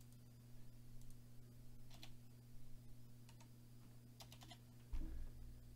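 Typing on a computer keyboard, scattered light key clicks in short bursts, quiet and close, over a steady low electrical hum.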